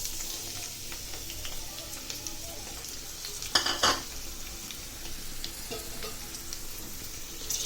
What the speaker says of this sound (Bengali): আলু আর চিচিঙ্গা দিয়ে ভাজি করার জন্য আমি কড়াইতে তেল দিয়ে দিছি। তেল গরম হয়ে আসছে। এবার কেটে রাখা পেঁয়াজ, রসুন, কাঁচামরিচ দিয়ে দিচ্ছি।